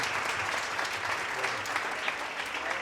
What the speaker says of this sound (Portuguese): Vamos receber o Bispo Márcio com a salva de palmas.